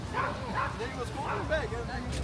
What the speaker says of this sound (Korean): 용맹하게 짖네 강아지가